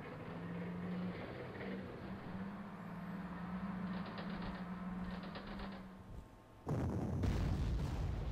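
Artillery fires in the wartime strategy game Panzer Corps: a low rumbling hum and distant gunfire build to a heavy blast near the end.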